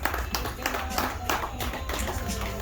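Several people clapping together in a short burst of applause, steady and moderately loud, with talk running underneath.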